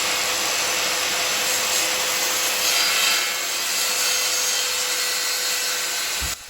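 A circular saw rips a diagonal cut through a sheet of plywood, a loud steady buzzing whine with a grinding edge that holds for about six seconds and then cuts off abruptly.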